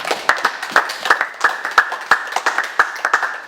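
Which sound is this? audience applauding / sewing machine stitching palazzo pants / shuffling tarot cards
audience applauding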